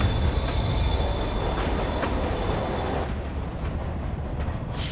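Train pulling away from a platform in the video game Spider-Man PS4, a loud steady rumble of wheels with sustained high squealing, fading somewhat after a few seconds with no voices.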